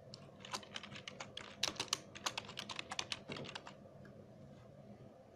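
Quick, irregular keystrokes on a computer keyboard as text is typed into a DaVinci Resolve text tool, a near clatter of clicks in short bursts that fades out toward the end, with no talking.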